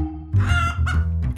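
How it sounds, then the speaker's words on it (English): A cartoon chicken in a Thomas & Friends tunnel story gives a short burst of loud, close clucking squawks lasting about a second and a half, alone with no talking over it. "Oh, chicken!"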